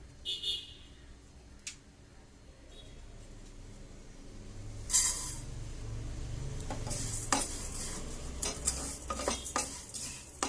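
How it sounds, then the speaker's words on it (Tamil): Vermicelli fried in ghee in a pan makes a soft, quiet sizzle with scattered scrapes and clinks of a spoon as it is stirred, growing a little busier toward the end. "இப்போ நான் கொஞ்சம் நெய் ஆட் பண்ணி சேமியா வந்து ஒரு அழாக்கு எடுத்திருக்கேன். ஸோ அதை போட்டு நம்ம ஃப்ரை பண்ண போறோம்."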